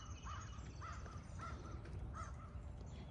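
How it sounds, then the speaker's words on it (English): Three crows caw in separate harsh bursts at an outdoor feeding spot, fairly close, over steady low background rumble and no talk. "And oh, there's the crows."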